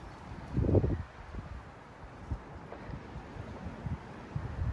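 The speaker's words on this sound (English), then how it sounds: "It is warm wind, but it's windy." Gusty warm wind buffeting a microphone in low rumbling bursts, strongest near the start, then fainter irregular gusts over a soft outdoor hiss.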